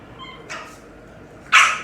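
Dogs yip and whine in short bursts, a softer cry followed by a sharper, louder bark near the end, fairly close.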